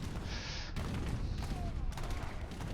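A rapid volley of booming cannon shots in Age of Empires 3, several blasts in quick succession over a continuous rumbling battle din.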